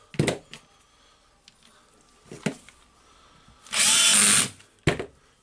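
Power drill driving screws during repair of a Makita HR2811FT rotary hammer, heard as several short close bursts and one longer sustained whir near the end, with quiet gaps between.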